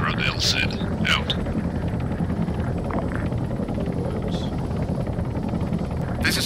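Helicopter flying in the Arma 3 video game, a steady low rotor and engine drone that runs throughout, with brief radio-like chirps over it.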